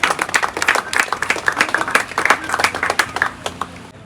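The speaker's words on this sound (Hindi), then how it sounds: "जोरदार तालियों से इनका स्वागत करें" Audience applause bursts out to welcome a guest at a pigeon-flying tournament prize distribution in Nagpur, a steady wash of many hands clapping close by that fades out near the end.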